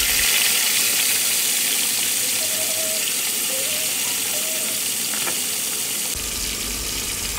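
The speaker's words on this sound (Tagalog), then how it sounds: "iprito na po natin ito, ang tilapia" Tilapia frying in hot oil, a loud steady sizzle and crackle with a brief soft clatter partway through and a shift in texture near the end.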